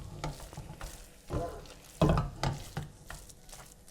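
Paneer bhurji is stirred in a pan, with irregular scraping and sizzling bursts at close range, a few louder strokes standing out against a low background hiss.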